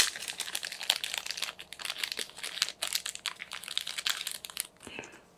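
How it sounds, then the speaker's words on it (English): Plastic packaging from a Kickstarter board game is peeled away and crumpled close up, a busy run of crisp crackles and crinkles with brief pauses and no talking. "I'll remove all the plastic and go through them later"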